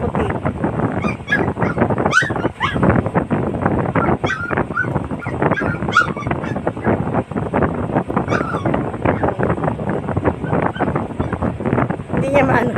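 A puppy whimpering and yipping close to the microphone in repeated short bursts, with people talking throughout and some wind rumble.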